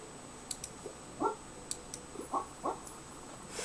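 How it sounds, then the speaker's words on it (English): A pet dog nearby at a quiet indoor desk, giving a few soft whimpers and short yips spread across a low background hum, mixed with faint clicks, and no one talking. "Here's my dog."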